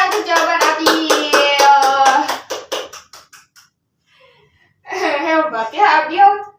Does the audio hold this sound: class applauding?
yes